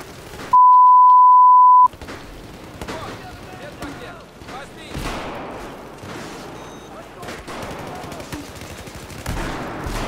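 UTS-15 shotgun fire in Battlefield 4 on the Metro map, sharp repeated blasts scattered through, preceded by a steady electronic beep, with someone talking excitedly over the gunfire.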